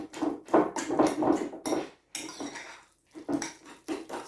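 Ripe bananas being mashed in a bowl for banana bread, with repeated squishy presses and a utensil clanking against the dish in an uneven rhythm, close by and with no speech over it.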